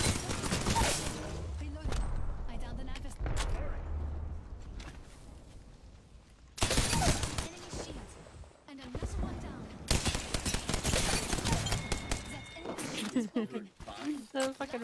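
Rapid gunfire bursts in the video game Apex Legends, loud and close, coming in clustered volleys with short gaps, mixed with a player's voice talking over the shooting.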